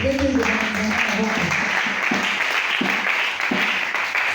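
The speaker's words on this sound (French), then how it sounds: "Est-ce qu'on peut acclamer pour la parole de Dieu?" A church congregation applauds in a steady wash of clapping, with voices rising briefly at the start.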